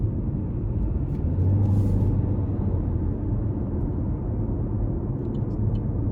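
Steady low engine rumble and road noise inside a 2020 Chevy Malibu LS with a 1.5-liter turbo as it accelerates out of a corner, a continuous drone with a slight swell.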